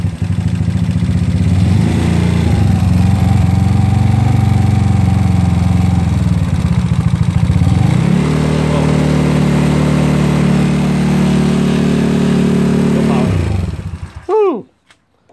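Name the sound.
revving a GY6 engine with 30mm carburetor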